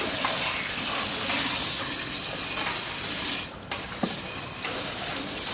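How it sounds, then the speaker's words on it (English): Hose water sprays steadily over a JetSurf motorized surfboard's engine bay, rinsing off salt water, a continuous close hiss and gush with a brief dip and a few splashy changes near the end. "I'm going to get everything wet, making sure that I get no water into this carburetor hole here."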